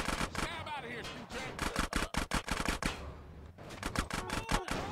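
Gunfire from the video game GTA San Andreas crackles in rapid, repeated bursts of sharp shots throughout, loud and close, mixed with game sounds and a voice talking at times.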